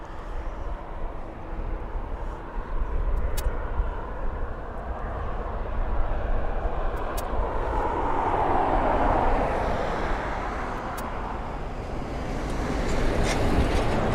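An aircraft at East Midlands Airport gives a broad, steady engine roar that swells for several seconds, then eases off, heard alone from some distance.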